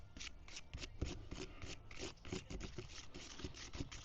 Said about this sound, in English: Don't have a fancy stir stick, so we're going to use a carpenter's pencil.